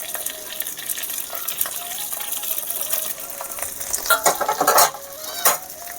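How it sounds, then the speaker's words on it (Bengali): Lightly fried river fish is lifted out of a hot pan, with a soft steady sizzle of oil running throughout and a few louder scraping, clattering handling sounds toward the end, close, without speech. "দেখুন আমার সব মাছ ভাজা হয়ে গেছে, এখন আমি সবগুলো নামিয়ে নিচ্ছি"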